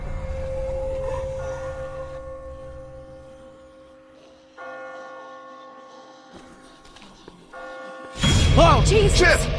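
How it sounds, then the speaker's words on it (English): Bells in The Walking Dead video game ring with sustained metallic tones that fade slowly, a second strike entering midway and another later, before a sudden loud burst of voices breaks in. "I just got spooked by those bells"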